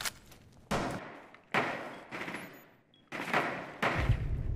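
Gunfire in a first-person shooter video game: several loud bursts of rapid shots with short pauses between them, close and sharp.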